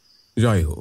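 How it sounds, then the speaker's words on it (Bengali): Crickets chirp outside at night, a steady high buzzing trill heard alone at first before a voice briefly speaks over it. "বাইরে ঝিঝি ডাকছে"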